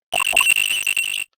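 A ringing telephone from the video game Phoenix Wright: Ace Attorney, one continuous bright electronic trill lasting just over a second, loud and alone.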